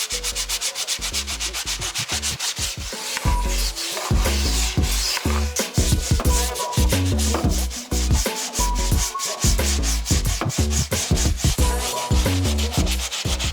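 A stiff bristle brush scrubs a tire coated in tire and trim cleaner, a close, rapid rhythmic rasping of back-and-forth strokes that runs steadily throughout.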